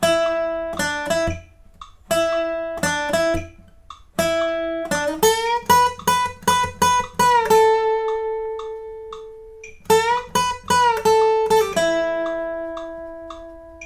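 A plucked acoustic guitar plays a solo at 75% speed, a slow, halting melodic line of single notes and short runs, with brief pauses between phrases, clear and close.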